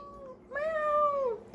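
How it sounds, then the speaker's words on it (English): A cat on a kitchen counter gives one clear, drawn-out meow close by, rising then falling, after a short softer call. "And now a cat on the counter."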